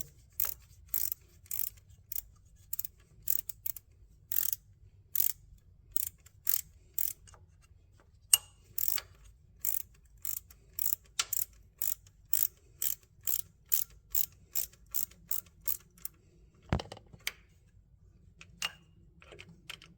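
Ratchet wrench clicking in short bursts while tightening the timing belt tensioner bolt on a Honda Accord, the close, sharp clicks repeating steadily with brief pauses, then one louder clunk near the end.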